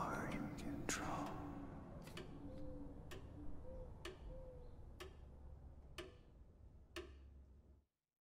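Ticking clocks layered into the final mix of a commercial, a steady series of sharp ticks roughly once per second over a low hum and soft background texture, ending abruptly.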